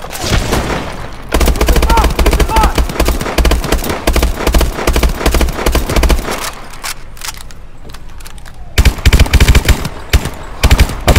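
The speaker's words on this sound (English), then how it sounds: "Suppression fire!" Suppressing machine gun fire in a Call of Duty: Advanced Warfare match: loud, rapid automatic bursts rattle almost nonstop, with short pauses and a final heavy volley. A voice shouts briefly over the shooting.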